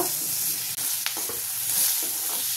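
Cubed potatoes fry in hot oil with curry leaves and a spoon of turmeric, a steady close sizzle with occasional scrapes and stirs of a spoon against the pan, no talk.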